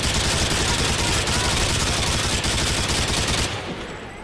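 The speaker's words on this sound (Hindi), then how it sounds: "ओके, एक एक करके मारते हैं। अंधा फायर करेंगे निकलते ही।" Dense, continuous automatic gunfire from a Call of Duty Modern Warfare 2 firefight in the No Russian mission, loud and relentless bursts overlapping throughout before thinning slightly at the very end.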